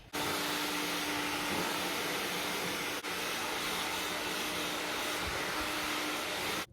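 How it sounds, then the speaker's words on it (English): A hair dryer blow drying a girl's freshly cut hair at home, a loud continuous close whoosh with a steady hum, briefly dipping once midway and cutting off at the end. "we're gonna blow dry it"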